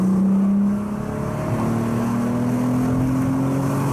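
A Volkswagen Golf R32 Mk4 engine pulls hard, its steady tone climbing through the revs as the car accelerates, loud and close without any talk.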